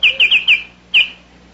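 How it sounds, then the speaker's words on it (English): A bright, whistled bird song: four quick clear notes in a row, a pause, then one more, crisp and fairly close. "that was the Baltimore Oriole"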